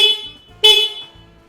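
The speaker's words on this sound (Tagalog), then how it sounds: "Busina po natin." Horn of a Moto Morini X-Cape motorcycle giving two close, piercing honks, a short blast followed by a longer, louder one that fades away.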